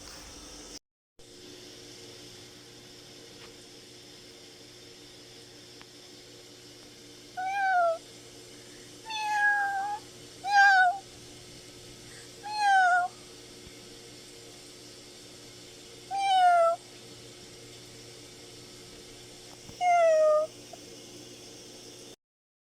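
Several kittens meow in short rising calls near a wild mother cat that recently gave birth, six distinct cries spaced apart over a constant low humming background, with no talk.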